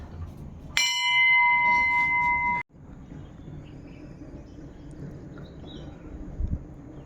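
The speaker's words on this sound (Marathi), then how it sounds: "परत एकदा घंटी वाजूया." A metal temple bell at a Swami Samarth math in Chiplun rings out with one loud, sustained tone that is cut off abruptly, followed by quiet ambient noise with faint insect chirps.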